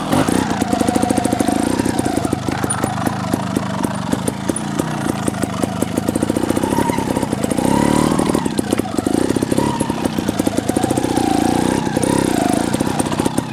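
A TRRS One RR trial motorcycle engine pops and revs close by as the bike rides through technical turns, a rapid pulsing putter with throttle swells rising and easing, loud and continuous.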